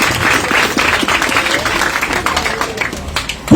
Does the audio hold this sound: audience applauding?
yes